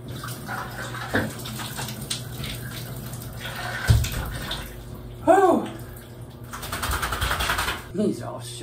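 A dog is bathed in a bathtub, with water splashing and pouring in short bursts and sloshing between quieter moments, while a person talks softly nearby.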